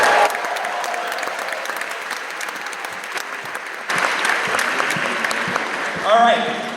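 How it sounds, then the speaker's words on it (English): Theatre audience at the Castro Theatre in San Francisco applauding before a Blade Runner and Robocop screening, a steady wash of many hands filling the room, swelling slightly near the end as a voice briefly speaks over it. "Well, give them a round of applause."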